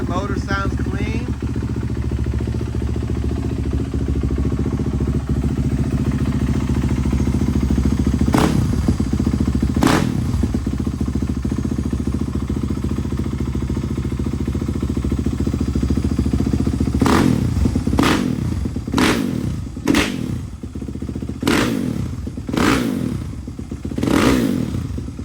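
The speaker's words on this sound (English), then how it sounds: "Motor sounds clean." A dirt bike engine idles with a steady, close mechanical rumble, then is revved in short, repeated bursts toward the end, with some clatter and handling noises mixed in.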